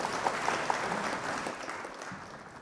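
An audience claps after a health presentation, a short burst of dense, steady applause from a crowd indoors.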